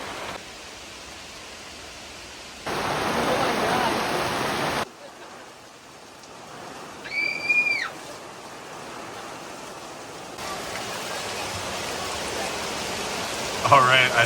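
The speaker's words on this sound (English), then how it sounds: "here we go, first storm" Rainstorm drumming on a gazebo canopy, a steady hiss of rain that swells and fades in sections, with a brief tonal squeak partway through and no voices.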